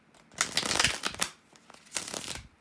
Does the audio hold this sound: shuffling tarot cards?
yes